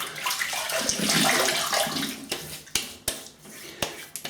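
Water splashes as hands wet the face before shaving, first a steady close running-water wash, then several separate splashes and drips.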